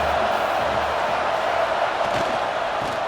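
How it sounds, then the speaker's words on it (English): Stadium crowd in the College Football 26 video game, a loud, dense, continuous roar of fans during a red-zone defensive stand, steady throughout without clear speech. "the crowd coming to life here, trying to help this defense down in the red zone"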